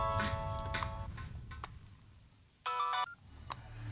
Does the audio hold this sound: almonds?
no